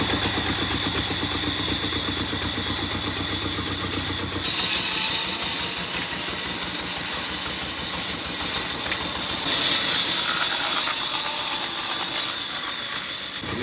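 Motorbike engine running steadily while riding, a continuous mid-pitched drone with vibration that shifts in tone partway through, loud and close with no talking over it.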